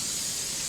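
Cooking spray hisses steadily from a can onto solid plastic dehydrator sheets, one short continuous close spray.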